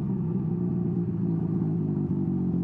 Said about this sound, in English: I do like the exhaust burbles on deceleration though.